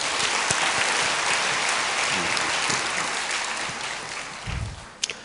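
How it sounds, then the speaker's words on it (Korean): Congregation at a Korean church sermon applauding warmly, a dense steady wash of many hands that fades toward the end, with a few louder claps and a brief low thump near the close. "우리 다시 한번 따뜻한 박수로"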